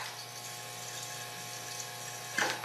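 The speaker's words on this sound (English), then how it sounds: "now I can just go down the line and add water to each battery as needed" Water runs from a jug through 5/8 tubing with a hose handle into a row of ten-year-old off-grid solar batteries, a steady close liquid rush that swells briefly near the end, with no talking.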